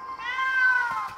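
A kitten in an animated children's cartoon gives a single drawn-out meow. The cry is clear, close and alone, and rises then trails off over about a second.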